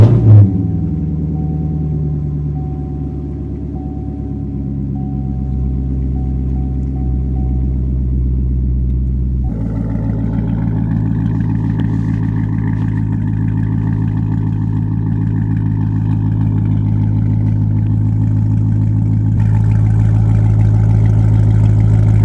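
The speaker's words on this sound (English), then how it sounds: "we're about to go get a cold start in for you guys, just so you guys can hear how the car sounds" A Corvette C7 Z51 engine cranks and fires up on a cold start, settling into a loud, steady rumbling idle that swells higher partway through, with a low chopping throb throughout.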